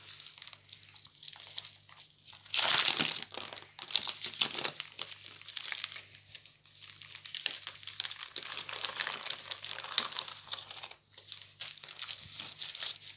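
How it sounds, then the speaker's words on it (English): Paper crinkling and rustling at close range as a ham roulade is rolled up in paper, with a sharper burst of crumpling early on and then steady, uneven crackles. "Again, roll it in with paper."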